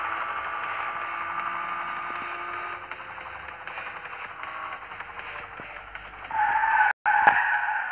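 Car drifting in the video game Drift All Star, a sustained tire squeal and skid under a steady engine drone, growing louder and harsher near the end with a brief cut in the sound.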